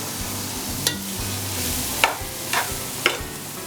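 Onions and rice sauté in ghee with a continuous close sizzle, broken by several sharp clicks of a spoon stirring against the pan, and no voices.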